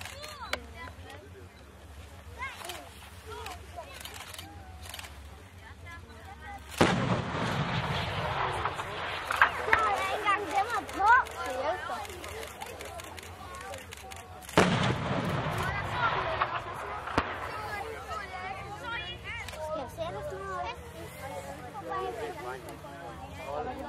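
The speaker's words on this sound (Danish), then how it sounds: "De skyder i tangens, de leger de." Heavy guns fire on a military range on an open heath. Two sharp, booming reports land several seconds apart, each rolling on afterward, while people talk nearby throughout.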